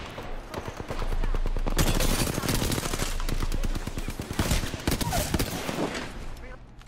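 Rapid automatic gunfire rattles in the Apex Legends battle royale, loud sustained bursts of shots close by, thinning into scattered shots toward the end.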